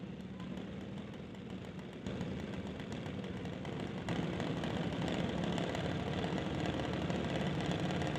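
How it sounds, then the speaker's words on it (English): Race car engine running steadily after a restart at a drag racing event, a continuous loud rumble that grows slightly stronger in steps, with no talk. "They had to reignite the engine."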